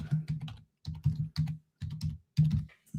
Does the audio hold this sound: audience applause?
no